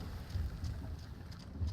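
Wind fills the sails of a galleon in the pirate video game Sea of Thieves, a steady low rush with soft gusting swells over a constant roar. No voices.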